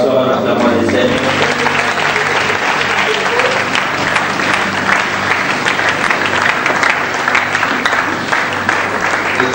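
A church congregation applauds while sitting back down, a dense and steady clapping that fills the whole stretch with crowd noise mixed in.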